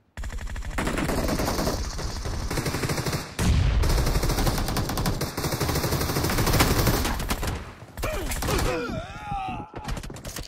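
Rapid shotgun and automatic gunfire in a BGMI battle royale match, loud and dense bursts running almost continuously with brief pauses, a short gap near the end before more shots.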